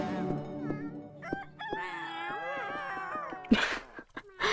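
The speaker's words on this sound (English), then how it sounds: "Oh, the cute cat noises." Cartoonish cat meows and wailing, drawn-out calls from the video game Cat Cafe Manager, tonal and varied in pitch, sounding close over a soft background, then ending in a brief burst of noise.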